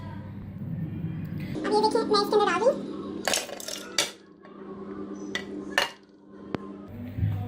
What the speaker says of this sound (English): I'm gonna put the meat in a little bit wider pan.